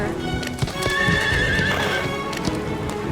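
Horse hooves clop in quick uneven beats while a horse lets out a loud, drawn-out whinny, close and clear over a busy background.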